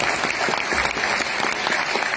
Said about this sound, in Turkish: çok kocaman bir alkış rica ediyorum lütfen